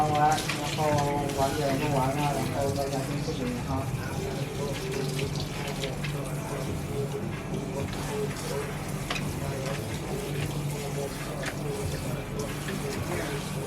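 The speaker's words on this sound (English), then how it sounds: "let me wash the shampoo" A blonde 613 lace wig being rinsed of shampoo under a running tap, with a steady rush of water splashing into a sink over the whole stretch and a voice talking over it.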